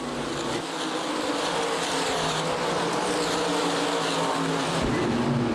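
Modified race cars roar continuously around Winchester Speedway's oval in a dense, buzzing wash of engine noise, a pack circling at speed, with a loud surge near the end.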